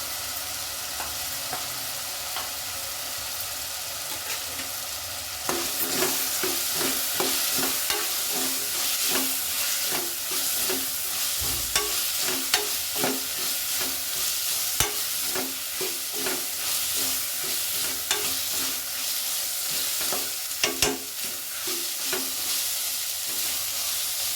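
Sliced onions go into a hot pan for biryani and fry with a steady loud sizzle, joined by repeated scraping stirs from a spoon, continuous and close with no talk.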